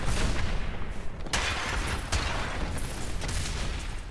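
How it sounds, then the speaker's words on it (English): Grenades thrown by a Demon Hunter in Diablo 3 burst in a dense, continuous volley of explosions, loud and close, with several sharper blasts standing out from the roar. "I'm forever throwing grenades, pretty grenades everywhere."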